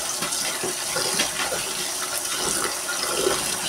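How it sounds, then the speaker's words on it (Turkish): Vegetables rinsed under a strong stream of running tap water to wash off sand and soil, a steady close gushing splash with light rubbing and sloshing throughout. "Şöyle bol suda şimdi yıkayalım."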